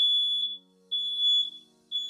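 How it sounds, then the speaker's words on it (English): A smoke alarm beeps in loud, piercing high-pitched bursts, three shrill tones separated by short gaps, with nothing else heard. "All right, so smoke alarms are going off."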